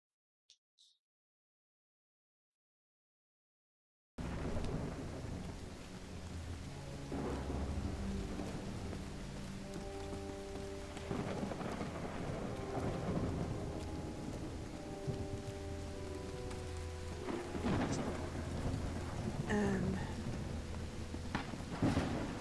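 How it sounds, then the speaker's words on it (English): Heavy rain pours in a steady roar with rumbles of thunder rolling through it, starting abruptly after a brief near-silent stretch with a couple of faint clicks. "It's raining cats and dogs here."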